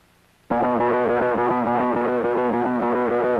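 A loud, continuous warbling drone bursts in abruptly and holds steady, a harsh wobbling buzz of communist jamming against Western radio broadcasts, with no speech.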